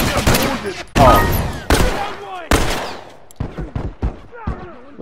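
Gunfire from The Last of Us Remastered, a handful of loud, sharp shots spaced out over a few seconds, each with a ringing tail, followed by quieter bursts and echoes.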